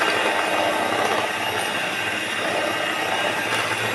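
An electric beater steadily whirs through chilled milk and whipping cream for mango ice cream, a continuous motor drone up close.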